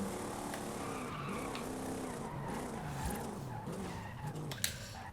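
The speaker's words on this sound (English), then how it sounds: "I noticed in the last episode the car sounds are a little overtaken" A car in the racing video game Forza Horizon 5 revs its engine while the tires skid and squeal, fairly quiet and continuous throughout.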